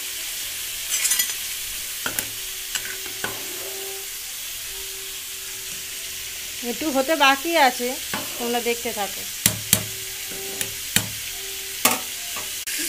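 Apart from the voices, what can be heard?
potatoes frying in pan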